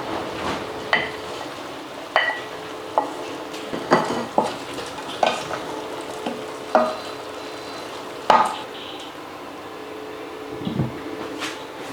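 Chicken fries with onion and garlic in a pan for adobo, a steady sizzle running throughout while a utensil scrapes and clacks against the pan in repeated stirring strokes, fairly close and without any talk.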